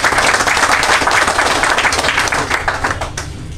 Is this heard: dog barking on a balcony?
no